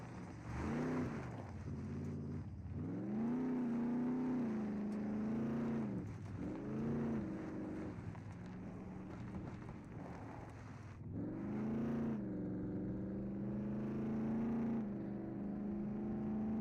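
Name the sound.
loud sidecar motorcycle engine in video game SCUM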